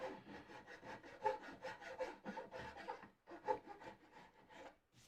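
Wood sanded by hand with sandpaper on a Lutyens bench leg or rail: a steady run of close, rhythmic rasping strokes, about two per second, with a short pause midway and no talk.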